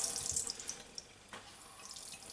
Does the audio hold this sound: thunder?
no